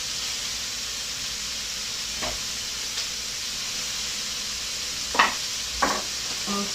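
Sliced red onions sizzle in a pan with a constant, even hiss, while a few brief scrapes and taps of a utensil break through near the end.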